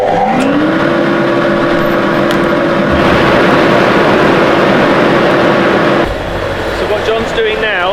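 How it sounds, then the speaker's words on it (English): A camper van's engine idles and warms up on a rolling road dyno, a steady loud drone with a rising whine that holds throughout, shifting in tone near the end. "we're going to be warming up the motor"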